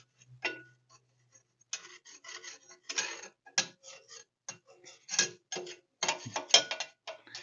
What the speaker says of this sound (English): I'm just going to use this little adjuster to kind of get all the big stuff scraped out of here